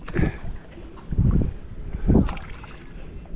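A paddleboard is paddled on open water off Lo Island, Vanuatu, with three close, splashy paddle strokes spaced about a second apart under light wind noise.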